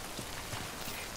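Rain falls steadily in Death Stranding as a constant, even hiss of drops with no voices over it.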